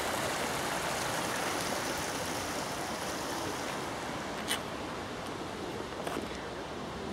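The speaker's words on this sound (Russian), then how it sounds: "Там внизу, по-моему, течет ручей." A stream flows in a ravine beneath a restored stone bridge in Alexandria, producing a dense, continuous broadband rush that stays steady and loud throughout, with no voices.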